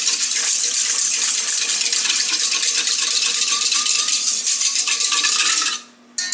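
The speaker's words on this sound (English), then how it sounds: "I'm going to give that a good stir." A spoon stirs warm water mixed with sugar and yeast in a container, giving a steady close sloshing and scraping rattle that runs without pause, then stops abruptly near the end.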